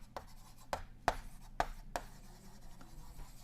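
Chalk or marker taps and scratches on a board during a lecture, five or so sharp strokes spaced irregularly, close and fairly quiet, with no voice over them.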